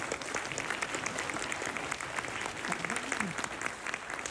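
A large audience at a school graduation ceremony claps steadily in a sustained round of applause, dense and continuous, with some voices mixed in.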